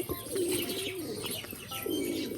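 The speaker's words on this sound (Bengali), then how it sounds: "রাজশাহী নটটার ডাকটা দেখো" A male Rajshahi pigeon with feathered feet gives two drawn-out, throaty coos close by, separated by a brief pause.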